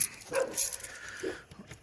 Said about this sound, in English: Apologize for the dogs barking.